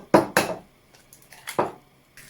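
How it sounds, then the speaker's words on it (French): Eggs cracked for brioche dough, heard as a few sharp, close taps and cracks on a hard edge, two quick ones together, then a pause and another, with faint handling sounds between. "Donc on casse les œufs."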